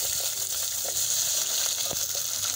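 Chopped onions and carrots cook in a hot pan with a steady, close sizzling hiss and a few soft pops and clinks throughout.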